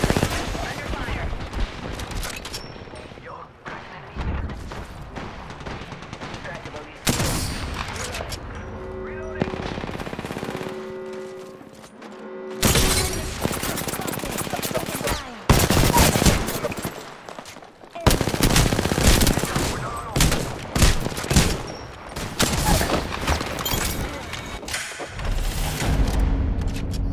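Automatic gunfire rattles through a match of Apex Legends in long, loud, close bursts with a few heavier booms, broken by short lulls, and a voice speaks now and then.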